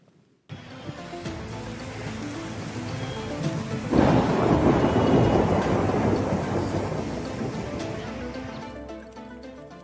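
Thunderstorm with rain over Gangapur City: steady rain hiss begins, then a deep thunder rumble swells and slowly fades while the downpour continues.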